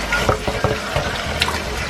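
Alligator tail meat is rinsed under running tap water, the stream splashing and spattering in uneven bursts with a steady, close hiss throughout.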